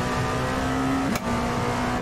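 A car in a Nürburgring racing video game accelerates with a steady buzzing engine tone, which briefly dips as the car shifts gear, then climbs again. No one speaks.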